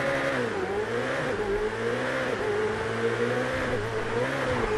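A sports car engine revving in the GTA video game, a steady loud mid-pitched drone with rising and falling pitch swells as the throttle varies, with no speech.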